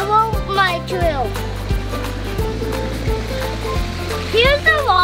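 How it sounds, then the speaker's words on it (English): Small waterfall along a nature trail with carp in the water, a steady rushing wash under the chatter of a child and an adult, with a low motor hum and sweeping whistle-like tones. "Here's the waterfall."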